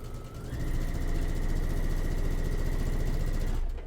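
A sewing machine stitches a seam close by. Its motor whirs in a steady, fast, rhythmic run for about three seconds before stopping. Nobody speaks.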